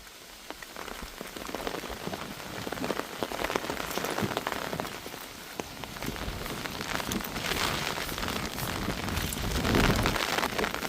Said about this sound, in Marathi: हवा आणि पाऊस